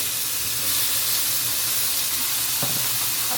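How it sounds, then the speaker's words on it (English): Food fries loudly in a hot pan with a dense, continuous sizzle and hiss throughout, up close, with a brief low clunk near the end. "And then I shall quickly fry them, let them rest, and then assemble."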